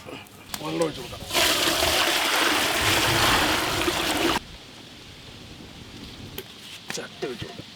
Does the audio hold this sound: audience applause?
no